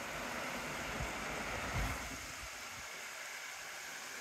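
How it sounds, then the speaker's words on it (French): A small waterfall flows steadily beside a rope bridge at an eco-lodge hotel, its soft, even rushing staying faint and constant throughout, with a few low thumps partway through and no voices. "Et la petite cascade."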